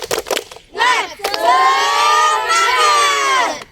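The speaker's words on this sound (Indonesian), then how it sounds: "kita membangkitkan semangat dulu dengan menggunakan yel-yel semangat. Tepuk semangat!" A group of schoolchildren does a tepuk semangat cheer, a few quick claps opening before their voices rise into a long, loud unison shout that holds for a couple of seconds.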